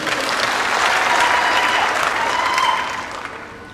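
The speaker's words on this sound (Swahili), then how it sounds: "Makofi kwa Waziri Mkuu." An audience applauds the Prime Minister at a public event, with steady, dense clapping from a large crowd that holds strong for nearly three seconds before thinning out.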